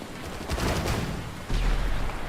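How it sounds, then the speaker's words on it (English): Gunfire crackles in the distance in the video game Stalker Anomaly, a faint scattered volley of shots and bursts over a low background rumble. "it wouldn't be Stalker without just random gunfire in the distance."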